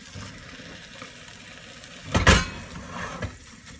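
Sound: eggs sizzling in a pan, rustic omelette being moved

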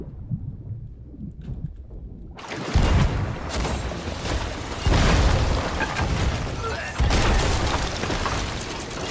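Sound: cannon fire, from a video game

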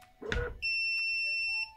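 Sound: blind motor beeping

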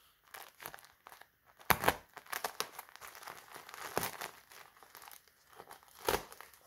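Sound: tearing open crinkly packaging of dry multipurpose baby wipes

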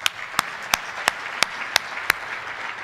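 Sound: audience applause at a luncheon

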